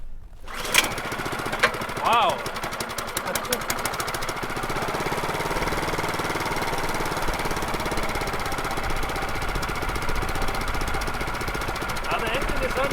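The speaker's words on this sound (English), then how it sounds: "The engine is running really well" A cheap snowblower engine coughs to life, then settles into a loud, close, steady chugging run, and a person exclaims briefly over it.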